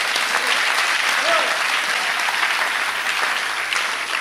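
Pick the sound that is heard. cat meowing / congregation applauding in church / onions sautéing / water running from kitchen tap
congregation applauding in church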